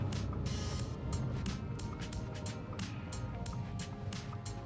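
Muted, steady low rumble from an Audi's all-wheel-drive engine at low RPM, a continuous broadband drone heard from inside the moving car with no talk.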